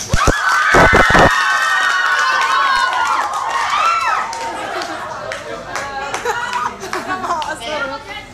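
An audience at a Balagtasan debate claps and shouts loudly, with several sharp claps up front, then cheering and chatter from the crowd.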